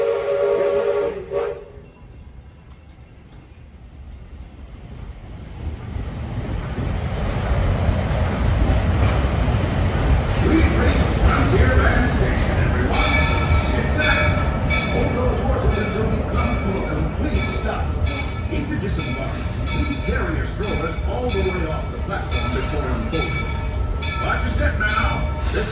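On the Walt Disney World Railroad at Magic Kingdom, a steam train whistle sounds briefly, then the train rolls on with a steady rumble and clatter of wheels on track, with voices mixed in.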